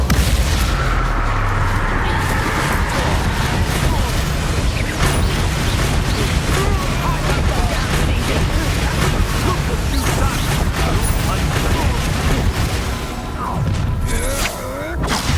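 Confringo spell blasts firing in Hogwarts Legacy sound as a dense, constant stream of crackling impacts and booming bursts under game music, with no let-up for fifteen seconds.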